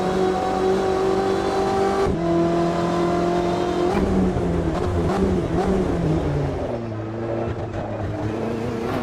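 A BMW GTE race car in Automobilista 2 drones loudly and steadily, its engine pitch holding and then stepping down through gear changes, close and continuous with no talk over it.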